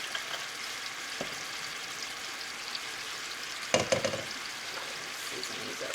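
Bacon-wrapped, spinach-stuffed chicken breasts sizzle steadily in a hot pan, a continuous close crackle with a few brief clatters of a utensil or pan.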